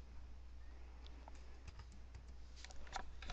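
Keystrokes tapped on a computer keyboard while entering a web address into a browser search bar, with scattered clicks that grow into a quick burst of typing near the end, close up over a steady low hum and no talking.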